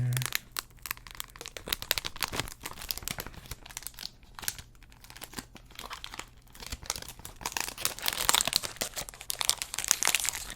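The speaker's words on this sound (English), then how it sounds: "Take the plastic off here." Crinkly plastic wrap is peeled and torn off a YSL cologne box close up, with dense crackling rustles that swell toward the end and no talking.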